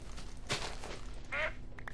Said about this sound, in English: These ducks are really difficult to hit.